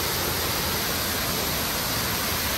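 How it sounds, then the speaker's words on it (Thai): A waterfall at a scenic spot in southern Laos gives a constant, loud, hissing roar of falling water, unbroken and even throughout, with nothing else audible above it. "น้ำตกสวยงามดีทุกคนเอ้ย สวย"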